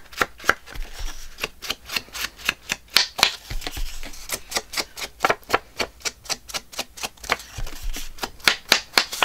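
An elderly pet cat bats at and crumples paper close by, a quick irregular run of sharp crinkling rustles and crackles that keeps going with short gaps between bursts.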